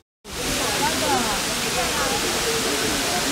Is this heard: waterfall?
yes